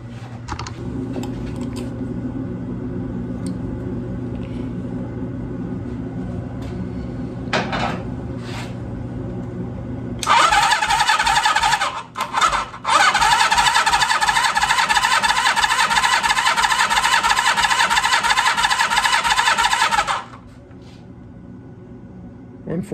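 A 1980 Honda CB650 motorcycle engine cranks over on the starter for about ten seconds: a loud, steady whirring that briefly catches partway through, preceded and followed by a quieter low hum.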